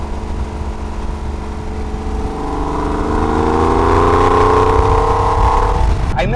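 A Porsche 911 engine revs up steadily under acceleration, its note rising in pitch and growing louder over several seconds before cutting off abruptly, heard from inside the car with no talk.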